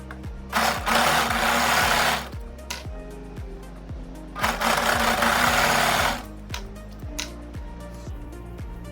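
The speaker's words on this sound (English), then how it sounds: "we're going to overlock round the entire outside edge" An overlocker serges around the outside edge of a gathered-waist summer dress in two loud, steady whirring runs of about two seconds each, separated by quieter pauses filled with faint handling clicks.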